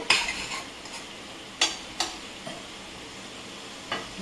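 A spoon scrapes and stirs a vegetarian curry of stuffed papad as it is sautéed down in a pan, giving a soft frying hiss with several separate scraping strokes at irregular intervals, close and fairly quiet.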